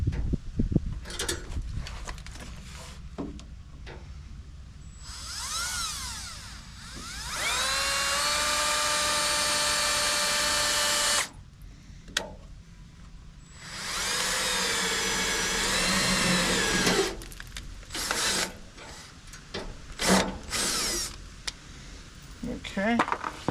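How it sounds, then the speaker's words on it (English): A power drill whirs in two sustained bursts while pre-drilling during a diesel heater installation in a converted school bus, its pitch rising and steadying, with clattering handling noises and shuffling in between. "So I'm gonna pre-drill it."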